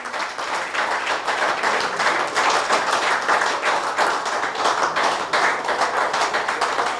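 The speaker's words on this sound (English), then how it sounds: "Give yourselves a round of applause." Sustained applause from an audience at a political party branch meeting, a dense, steady patter of many hands clapping at even loudness throughout with no speech over it.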